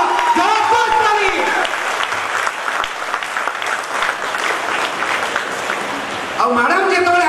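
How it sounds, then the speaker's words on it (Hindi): Loud audience applause at a healthy living seminar, dense clapping from a crowd close by, with a voice speaking over it at the start and again as it ends. "आप सभी की ओर से जबरदस्त ताली"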